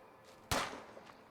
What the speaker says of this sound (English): Yeah, I've been hearing lots of gunfire.